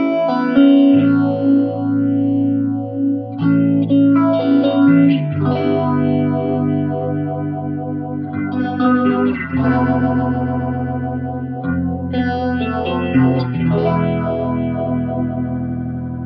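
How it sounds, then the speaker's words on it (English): An electric guitar runs through a Phase 90 phaser pedal with distortion switched on, its speed swept by an expression pedal, giving loud sustained distorted chords with a swirling, sweeping phase effect and no talking. "I have the expression pedal hooked up to the Phase 90,"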